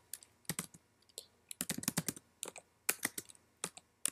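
Someone types on a computer keyboard while setting up a Foscam FI9831W camera, with irregular bursts of close, crisp key clicks separated by short pauses.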